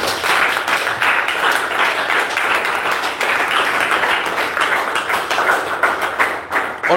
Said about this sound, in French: Applaudissons donc pour le Seigneur pour sa vie.